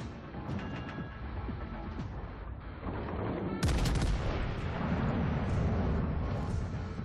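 Naval gunfire from warships in World of Warships Legends rumbles continuously, with rapid overlapping shots and deep booms. A sharper, louder salvo bursts in midway, and heavy, dense firing continues after it.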